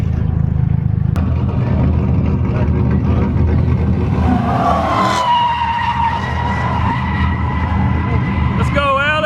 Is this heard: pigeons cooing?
no